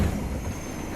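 Train rumbling and clattering along the rails in the video game 13 Sentinels, a dense continuous close roar without voices.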